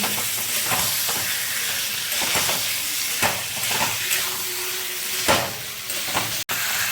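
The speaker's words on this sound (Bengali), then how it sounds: "চিকেনটা আমি দিয়ে দেবো, ভালোভাবে মিশিয়ে নেব।" Chicken pieces and vegetables sauté in a pan for potato chicken curry, a continuous close sizzle broken by repeated scraping and knocking strokes as the mixture is stirred.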